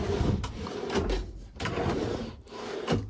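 Empty wooden drawers are slid open and shut in a house being packed up for a move, giving a run of close scraping rumbles and sharp knocks at irregular intervals, with no talking.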